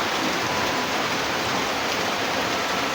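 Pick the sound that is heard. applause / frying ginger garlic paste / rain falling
rain falling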